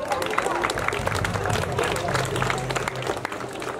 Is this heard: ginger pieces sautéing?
no